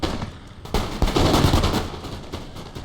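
A musket volley crashes out in a Napoleon Total War battle between Ottoman and French troops, loud and close, with several overlapping bursts of gunfire followed by a rolling, crackling tail.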